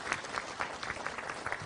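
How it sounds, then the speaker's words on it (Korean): Audience applause at a job-creation partnership signing ceremony in Gyeonggi Province, a steady, moderately quiet patter of many hands clapping throughout, with no voices over it. "여러분 큰 박수로 부탁드립니다"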